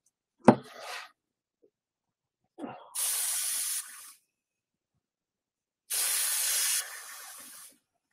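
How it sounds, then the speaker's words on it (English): Two bursts of a pixie spray bottle spraying, each about a second long, preceded by a couple of short clicks and handling noises, close and fairly loud. "grab our pixie spray"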